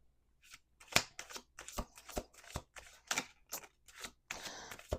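A deck of cards being shuffled close up, a quick series of crisp riffling bursts and snaps, irregular and sharp, ending in a longer fluttering riffle.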